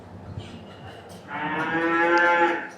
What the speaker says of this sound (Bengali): যে পাশে কতগুলা গরু আছে মাশাআল্লাহ।